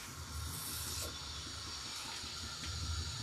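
Mustard seeds and dried red chillies tempering in hot mustard oil give a steady close hiss of spattering, with a low rumble underneath and no talk.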